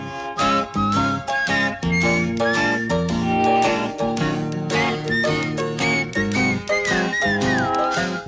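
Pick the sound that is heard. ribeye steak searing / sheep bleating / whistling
whistling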